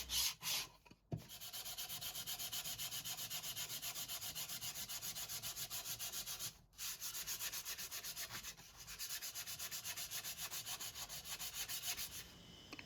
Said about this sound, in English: sanding and preparing the base of the box at this stage is going to be much easier